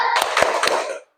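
A primary school class clapping a rhythmic chant, three or four sharp claps rising out of a steady blend of voices chanting together, ending abruptly.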